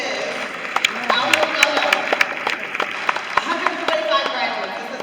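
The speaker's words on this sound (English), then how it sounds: "Give yourselves a round of applause." A graduation ceremony audience breaks into applause, sharp scattered claps rising and falling beneath an amplified voice speaking over the crowd.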